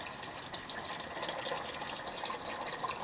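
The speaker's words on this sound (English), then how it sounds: "And I don't actually have to run this water hot" Water runs steadily from a sink faucet in a studio, a constant broadband gush with no breaks and no talking.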